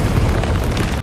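A building blows up in an Indian action film. The blast is a loud, dense roar of deep rumble that holds steady for about a second, with no voices.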